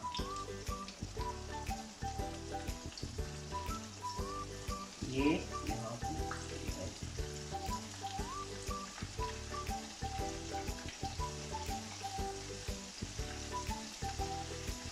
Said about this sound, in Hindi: तो ये बस इसके अंदर इस तरह फ्राई आराम से